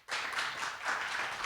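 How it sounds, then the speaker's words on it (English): A lecture audience claps steadily for a professor invited to the podium at a university forum, a dense, sustained burst of applause with no talk over it. "please give him a big applause"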